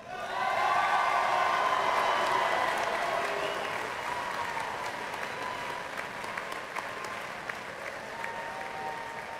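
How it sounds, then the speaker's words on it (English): Applause from the crowd at a college commencement ceremony, a broad, sustained roar of clapping that is strongest at first and then eases a little while continuing steadily. "Let's have another round of applause for the class of 2018."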